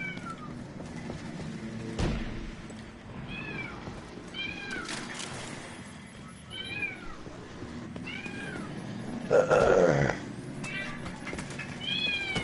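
A cat meows repeatedly inside The Division 2 game on PS4, several rising calls spaced through the scene over steady game ambience, with a louder burst of noise near the end.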